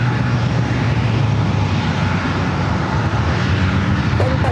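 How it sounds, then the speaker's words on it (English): Lufthansa Airbus A350-900 airliner arriving at San Diego airport, a loud, steady broadband jet roar that holds throughout without a break. "And Lufthansa bringing in the"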